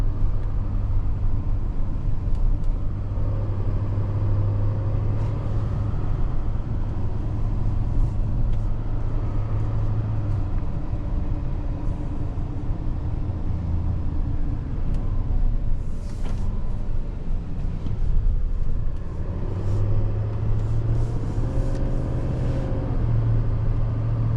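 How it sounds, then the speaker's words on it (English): A deep diesel engine of a 2024 GMC Sierra 3500HD Denali pickup truck rumbles steadily up close, idling and revving in a low, continuous drone with faint mechanical clatter, no voices. "I love the sound of a diesel."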